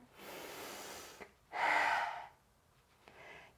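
Slow, deep breaths during a gentle yoga session, a long airy exhale followed by a stronger inhale and a softer breath, close and alone.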